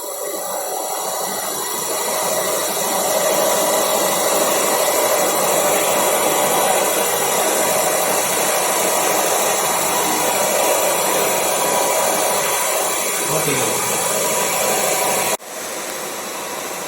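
In an electrical lab, a motor-driven alternator runs at its rated 1500 rpm with a loud, steady whirring drone and hiss that holds constant, with a brief change in tone shortly before the end.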